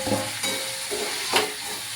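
Saag greens being stirred and fried in a pan, a steady close sizzle with a few scraping stir strokes, no voices.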